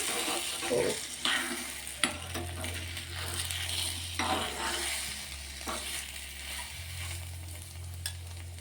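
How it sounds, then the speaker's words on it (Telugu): An egg mixture seasoned with coriander powder fries in a pan with a continuous sizzle, punctuated by scraping stirs and a few sharp clicks of a utensil against the pan, with a low hum underneath. "కొంచెం ధనియాల పౌడర్ వేసుకున్నా ఇది ఒక్క రెండు నిమిషాలు ఫ్రై అవ్వాలి"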